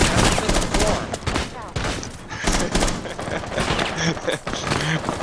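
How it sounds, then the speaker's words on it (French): Gunfire in the video game Rainbow Six Siege, with dense, rapid bursts of shots and thuds in close succession under excited commentary voices. "Oh, ça tire par l'arrière."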